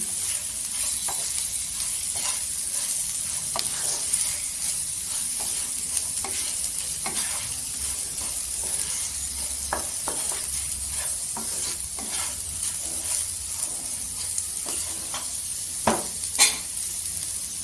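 Spice masala stir-frying in hot oil for garlicky okra bhaji, a steady close sizzle with frequent scraping clicks of a spoon against the pan throughout.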